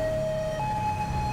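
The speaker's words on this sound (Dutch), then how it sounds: "En nogmaals, aan deze sirene kan ik voorlopig nog even niks doen." An older police siren wails steadily in GTA 5, a continuous tone that shifts pitch once partway through and plays loud over low engine rumble.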